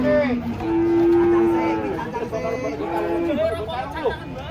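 An old Javanese cow, agitated while coming off a truck, lets out a long, loud moo, then a shorter one, over a background of people chattering nearby.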